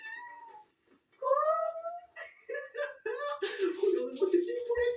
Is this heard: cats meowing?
yes